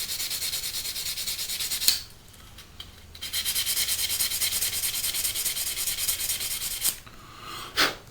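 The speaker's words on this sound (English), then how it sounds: "we can give it a good buff with a sanding sponge to bring this up" A sanding sponge rubs over a seam on an Academy 1/48 Su-27UB Flanker plastic model kit, giving close, steady scratchy strokes in two long runs separated by short pauses, with a final brief stroke at the end.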